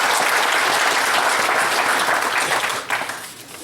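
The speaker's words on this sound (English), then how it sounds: "You notice more people clap for the politician than the lawyer" An audience at an annual meeting gives a warm round of applause for Representative Bill Green, dense and loud clapping throughout before it thins and tapers off at the end.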